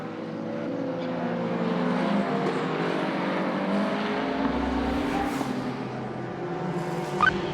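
Endurance race cars, including a Penske Porsche, racing at Spa in an FIA WEC six-hour event: steady engine drone passing at a distance, rising and falling slightly with wind noise and no voices.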